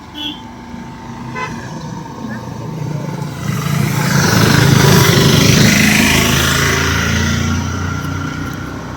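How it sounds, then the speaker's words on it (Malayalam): Vehicles crowded with people drive past on a windy hill road early in the morning, engines swelling as they approach and fading away, with a horn toot and wind noise behind a voice talking. "വണ്ടിയൊക്കെ നിറച്ച ആൾക്കാർ പോകുന്നു"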